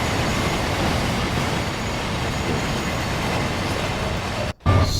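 A train rumbling along steadily in Train Sim World on the West Coast Main Line, a dense, continuous roar and faint rhythmic clatter at about 50 mph, briefly cutting out near the end.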